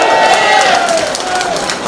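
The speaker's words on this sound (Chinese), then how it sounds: "听到大家的欢呼啊" A crowd at a Fujianese association's eighty-second anniversary gala in New York cheers and shouts in a steady, loud wash of voices, with no clear pauses.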